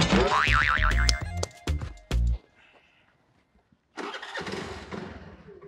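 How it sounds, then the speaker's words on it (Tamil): A vehicle engine cranks and fires up loudly, revving with a bouncy rising tone before cutting off twice, then after a brief quiet it runs again at a steady rumble close by. "வண்டி ஸ்டார்ட் ஆயிடுச்சு, வந்து எடுத்துக்குப்பா."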